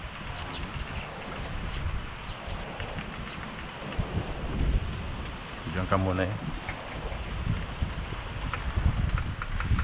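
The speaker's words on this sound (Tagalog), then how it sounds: "Ay, umahangin lang napakalakas." Strong gusting wind buffets an outdoor spot under an overcast sky, a steady rumbling roar with louder surges across the clip, while people talk nearby.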